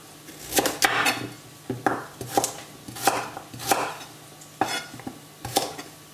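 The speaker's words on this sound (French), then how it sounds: "Donc les carottes, je vous ai dit, on les coupe comme ça." A knife chops carrots on a cutting board while a carrot curry soup is being prepared: close, sharp, irregular chops in small clusters, with no talking.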